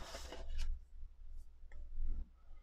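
Paper being trimmed at a crafting table, likely with scissors or a trimmer: a couple of brief rustling, scraping strokes, close and fairly quiet, with no talking.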